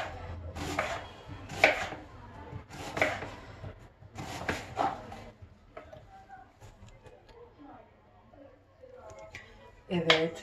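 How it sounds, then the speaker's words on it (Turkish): A knife chops halved onion into thin slices on a board in a home kitchen, making sharp, evenly spaced knocks in bursts with pauses between them. Someone talks quietly under the chopping. "Önce soğanı ikiye böldüm. Sonra onu bir kere daha böyle böldüm. Ve doğruyorum. İnce bir şekilde."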